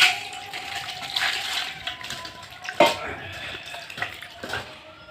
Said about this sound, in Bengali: এখন আমি বেগুনটা জল দিয়ে ধুয়ে নেব।